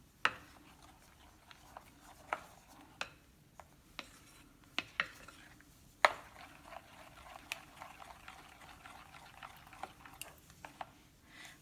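Thin eggless rose cookie batter being mixed in a bowl, soft wet stirring with a string of sharp clicks of the utensil against the bowl, close and fairly quiet, no talking.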